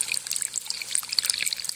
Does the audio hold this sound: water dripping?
yes